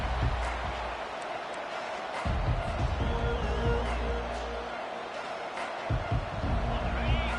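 Football stadium crowd roaring in a steady, dense wash of noise during a game, with swells of cheering rising and falling and a commentator talking over it.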